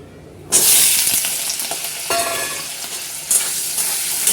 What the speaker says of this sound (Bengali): তেল গরম করতে বসিয়ে দিয়েছি আলুগুলো ভাজতে দিয়ে দেবো